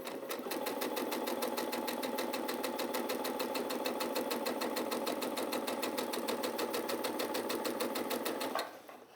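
A sewing machine stitches fabric rectangles together in one long continuous run, a close, fast, even mechanical whir lasting about eight seconds before it stops abruptly.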